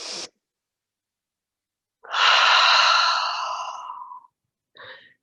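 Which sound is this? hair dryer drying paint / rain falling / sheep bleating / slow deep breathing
slow deep breathing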